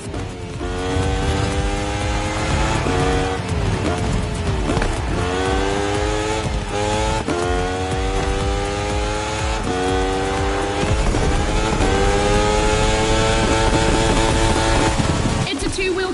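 Motorcycle racing engines roar in The Crew Motorfest, a continuous loud whine of revving bikes with repeated rising pitch sweeps as they shift through gears, sustained throughout with dense overlapping engine tones.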